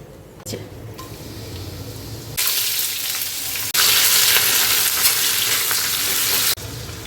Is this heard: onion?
yes